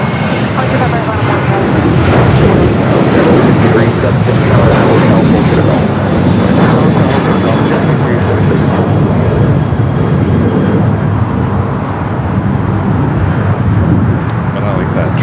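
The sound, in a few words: airplane taking off at Los Angeles airport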